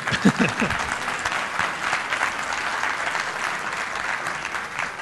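An education conference audience claps in a full, continuous round of applause, a close, busy texture of many hands with a few sharper claps near the start.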